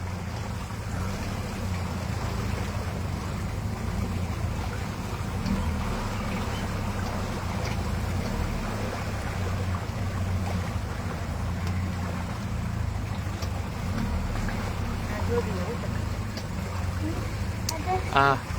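A boat cruises along a canal in Kerala, its low engine rumble and water wash running steadily throughout, with wind noise and faint voices in the background.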